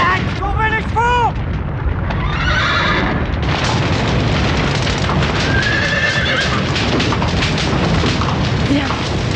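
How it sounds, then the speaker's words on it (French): Horses whinny loudly amid constant noisy commotion, with hoof clatter and heavy booming rumbles throughout. "Black, trouvez les chevaux."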